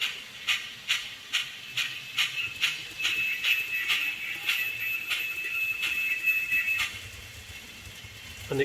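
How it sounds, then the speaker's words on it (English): A model train locomotive's brake sound effect as it stops: a sustained high squeal over a rhythmic mechanical chuffing that fades, played through a small speaker. "when I stop it this time, I'll stop it with the brake noise"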